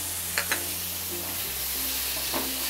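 Spices, slit green chillies and chopped tomato roast in a hot pan, a constant sizzle broken by a few sharp stirring scrapes, close and fairly loud with no speech.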